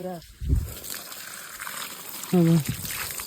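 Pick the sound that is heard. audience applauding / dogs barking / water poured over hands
water poured over hands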